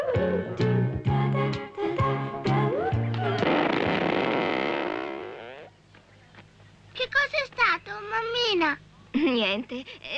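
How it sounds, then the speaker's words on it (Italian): A noon cannon fires in an Italian comedy film trailer: one booming blast whose rumble fades over a couple of seconds, set between music and voices. "è stato il cannone che annuncia mezzogiorno"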